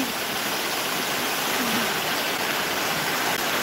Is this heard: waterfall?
yes